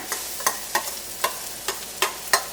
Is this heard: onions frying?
yes